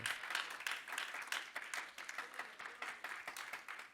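A church congregation applauds together during a sermon, dense rhythmic clapping that pulses steadily and stays fairly faint and distant for the whole stretch.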